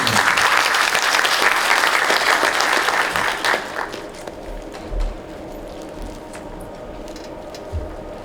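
An audience at a Seoul urban regeneration policy seminar gives a keynote speaker a burst of dense applause that fades after about three and a half seconds, leaving scattered faint claps in a quiet room.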